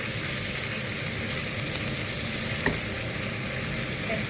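Spices being stirred in a hot frying pan: a continuous loud sizzle and frying hiss, with faint scraping from stirring throughout and no speech.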